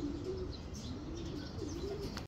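Pigeons coo in soft, repeated rolling calls close by, layered over a steady background hum with faint chirps and no talking.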